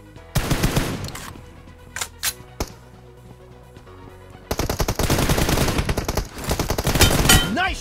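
Rapid bursts of automatic gunfire and single shots from a one-on-one video game match, loud and close, with scattered shots early on followed by dense, sustained firing.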